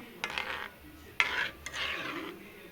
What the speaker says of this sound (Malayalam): നമുക്ക് നന്നായിട്ടൊന്ന് ഇളക്കി കൊടുക്കണം